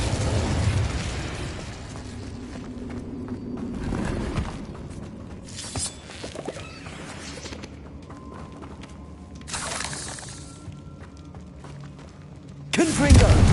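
Fiery Confringo blast spells explode in Hogwarts Legacy, several loud, sharp bursts spaced a few seconds apart over game sounds, with a voice speaking between them.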